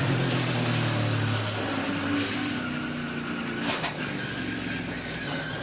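NASCAR Xfinity Series race car at Daytona heard from an onboard camera: a loud, continuous engine drone at full throttle with a steady pitch and a slight dip near the end.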